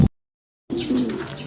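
Racing pigeons coo in a short, close, soft throaty call lasting under a second, following a brief silence.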